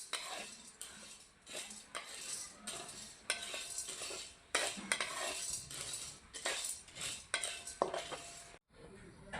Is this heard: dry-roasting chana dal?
yes